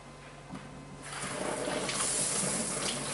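Tap water runs steadily over an eggplant being washed in a kitchen, a close gushing stream that swells louder after the first second and holds.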